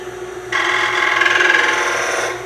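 Bowl gouge cutting shavings from wood on a lathe, heard as a sudden, steady, close scraping hiss that starts abruptly and continues to the end.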